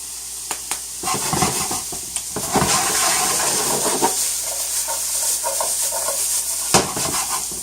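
Chicken and zucchini sizzle in a hot stir-fry pan as they are flipped, giving bursts of hissing and clattering tosses over a steady fry, close and fairly loud.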